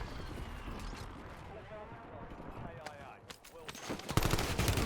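Tripod-mounted machine gun fire in the shooter game Warzone, sharp bursts of shots that grow louder and denser toward the end, under a busy game soundscape with some talk.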